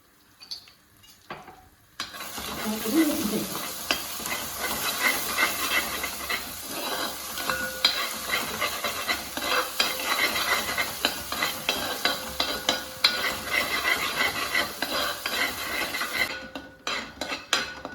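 Chicken masala for chicken varattiyathu sizzling in a pan. After a quiet opening it becomes a continuous loud fry, with a spoon scraping and clinking against the metal while it is stirred, and nobody speaks.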